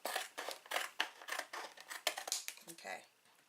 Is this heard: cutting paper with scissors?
yes